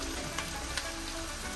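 Tomatoes go into a pan of onions already softened to translucent, frying in a Mombasa home kitchen while iftar is cooked; a steady, close sizzle hisses throughout with a few faint clicks and no talking.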